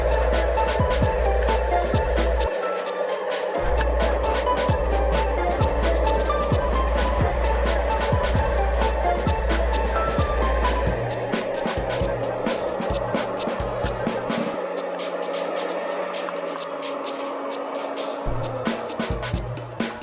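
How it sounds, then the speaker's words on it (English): A big tractor loaded with soil crawls down a steep hill, its engine rumbling steadily throughout with a low drone, clattering and occasional louder mechanical knocks. "watch this big tractor loaded with soil making its way down a steep hill"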